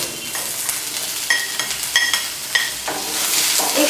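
Tomato pieces with yellow and red bell pepper frying in a pan, a soft continuous sizzle broken by short scrapes and clinks of a spatula stirring, close and fairly quiet.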